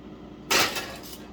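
A tray of chicken wings slid into a toaster oven: one metallic clatter as the tray goes in, followed by a lighter rattle, close with no talk.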